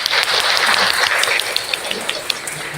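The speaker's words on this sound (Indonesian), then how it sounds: "Tepuk tangan dong." Students in a classroom break into steady applause, a dense, fairly loud patter of many hands clapping throughout, with a few sharper individual claps standing out.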